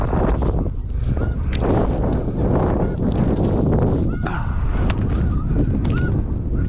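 A big flock of snow geese honks nonstop during a goose hunt, a dense, overlapping clamor of calls from near and far, buffeted by wind noise against the microphone.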